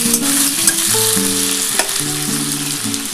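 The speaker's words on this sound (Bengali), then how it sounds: "আলুটা একটুখানি লাল লাল করে ভাজা হলে তারপরে ওর মধ্যে আমি কপি ডাঁটাটা দিয়ে দেবো।" Potatoes sizzle and crackle loudly in a pan with oil as they are stirred, frying for a cauliflower-stalk posto dish, under steady background music.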